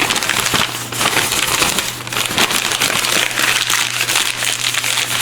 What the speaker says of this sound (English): sort of crumple it